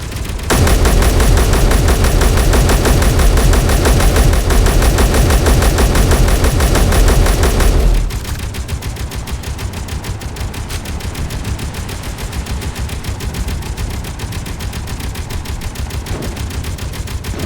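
Guns blaze in Space Engineers, a sustained, dense automatic burst for about eight seconds that then drops to a lighter, steady rattle of continued fire with no talking.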